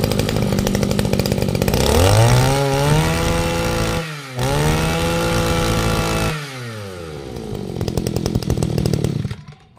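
A Japanese Echo 260 brush cutter with a 34 mm bore and 26cc two-stroke engine runs loudly and close, revving up, dipping briefly twice as the throttle eases, then cutting off near the end.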